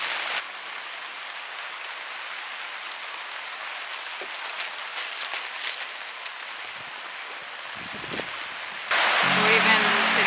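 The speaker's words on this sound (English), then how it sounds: "the rain just keeps getting worse" Steady rain falls outdoors during a walk on the South Downs Way, a constant broad hiss with scattered drops that grows louder near the end, while a voice speaks briefly.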